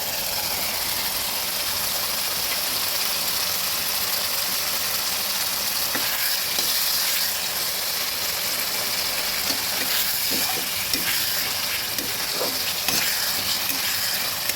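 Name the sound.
chopped tomato and green chillies frying with spices in pan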